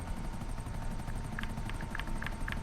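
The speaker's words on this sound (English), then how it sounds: "So I think the buzzard attack chopper may be a little tiny bit faster than the Oppressor Mark II upgraded fully." A Buzzard attack chopper from GTA Online flies along with a steady low rotor drone and engine rumble, plus faint repeated higher chirps over the top; no one speaks.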